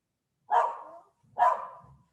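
A dog barks twice, two loud single barks about a second apart, close by and otherwise alone.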